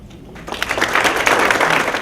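A retirement lunch audience breaks into applause, a dense burst of many hands clapping that swells quickly from near silence and stays loud and steady, with no voices.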